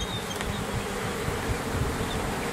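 Bees buzz steadily around an opened hive during a requeening inspection, a dense, continuous hum close by with no talk over it.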